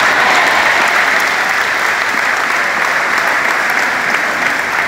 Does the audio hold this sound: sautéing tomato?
no